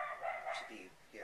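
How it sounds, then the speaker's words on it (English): A neighbor's dog barks faintly in the distance, a few muffled woofs mixed with someone talking close by. "That's my neighbor's dog."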